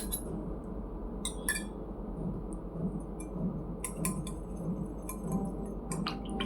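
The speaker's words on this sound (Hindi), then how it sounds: "और आप अच्छे से इसे हिला लेंगे।" Spoon clinking against a glass while onion juice is stirred into a tea leaf decoction, several light bright clinks scattered over a soft steady background hum.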